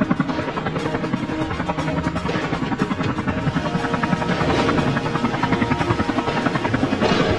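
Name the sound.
cartoon helicopter flying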